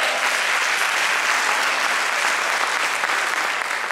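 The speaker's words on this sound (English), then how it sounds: "clap your hands for them" Steady, dense applause from a school audience clapping for Richland One Middle College students who shared their future plans, loud and continuous with no talk over it.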